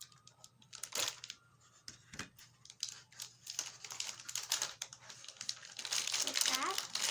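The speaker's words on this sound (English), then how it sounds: "I'm going to cut it so it's easier" Scissors snip and crinkle through plastic Num Noms toy packaging up close, with irregular cutting and crackling sounds that grow busier toward the end, while people talk.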